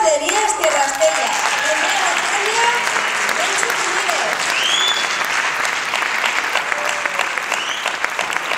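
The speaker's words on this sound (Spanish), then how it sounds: "demos nuevamente un fuerte aplauso" Loud audience applause at a short film festival's awards ceremony, dense and sustained the whole time, with some crowd voices and cheers mixed into the clapping.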